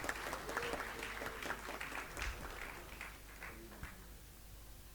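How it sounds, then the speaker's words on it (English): Round of applause from the audience at a student felicitation event honoring newly qualified chartered accountants; steady dense clapping from a crowd across the whole stretch, fairly soft and distant. "Request everyone to give a huge round of applause to our newly qualified CAs present here."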